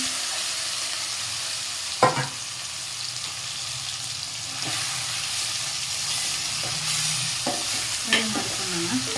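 Chicken curry masala frying and being stirred in a pan, a continuous close sizzle with occasional louder knocks and scrapes of the spoon, steady throughout with no talking.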